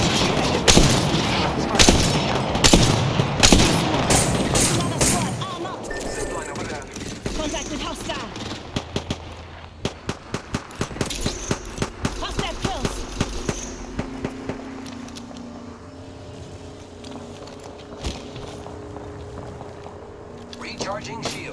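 Gunfire in the Apex Legends video game, with dense bursts of rapid shots early on, then scattered single and clustered shots, mixed with other game sounds and talk.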